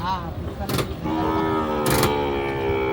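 Two loud, drawn-out cattle moos close by at Raniganj cattle market in Dinajpur, one near the start and one later, over a low rumbling background with no clear talk.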